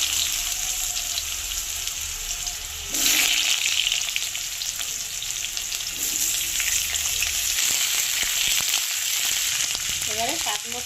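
Pumpkin pieces frying in hot oil with black cumin seeds and garlic for a Bengali mashed pumpkin dish, giving a steady loud sizzle that surges when the pumpkin goes in and keeps crackling throughout, with no talk.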